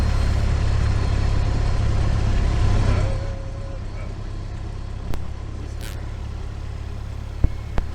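A light training aircraft engine runs loud and steady with a deep low rumble, then drops abruptly to a quieter idle about three seconds in, followed by a few sharp clicks.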